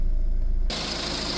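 A 2018 VW Polo engine, just revived after a no-start fault following battery replacement, catches and settles into a steady, loud running drone that holds to the end.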